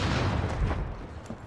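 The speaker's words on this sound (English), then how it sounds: "I'm shooting Adrian, then he just disappears." Gunfire in the Modern Warfare video game during an online match: dense, continuous booming shots and blasts packed close together, loud and steady throughout.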